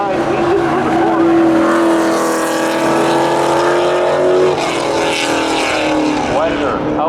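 At a Memorial Day thrill show spectator drag race, several race cars scream into the first turn with loud, layered engine whines that rise and fall, while a commentator talks over the noise.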